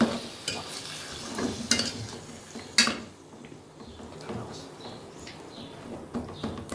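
Spices are stirred into chicken in a pot with a spoon, producing scraping clinks and soft shuffling against the metal, with a few sharper knocks and a little sizzling underneath.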